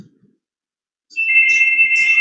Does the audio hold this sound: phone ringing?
yes